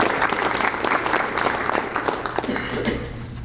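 A round of applause at a school board meeting honoring a high school girls' track athlete, steady clapping from a room of people lasting several seconds and tapering slightly at the end.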